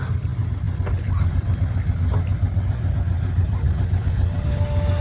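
A Cutlass Supreme drives in and pulls up at an autumn classic car show, its mid-pitched engine rumbling steadily and fairly loud throughout, with a brief faint tone near the end.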